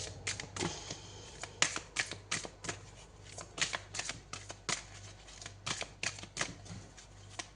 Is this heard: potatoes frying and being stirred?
no